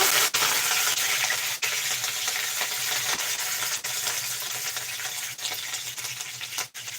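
Green chillies and curry leaves fry in hot oil for rava upma with field beans, producing a loud, continuous close sizzle with a few faint clicks from the spoon against the pan.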